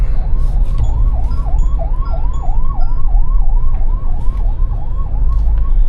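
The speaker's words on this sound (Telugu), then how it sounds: "అంబులెన్స్ డెఫినెట్గా ఆ సైరన్ అండ్" An ambulance siren wails in a steady repeating up-down pattern over road and engine noise heard from inside a Thar Roxx SUV in city traffic, loud and continuous throughout.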